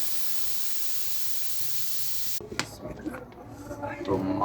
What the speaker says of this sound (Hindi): तो अल्हम्दुलिल्लाह जी प्रेशर कुकर का ढक्कन हटाते हैं।